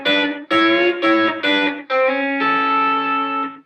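A guitar with an effects unit plays a country-style phrase in sixths using hybrid picking: a handful of quick double-stop plucks followed by two longer sustained pairs, close and clean with no speech.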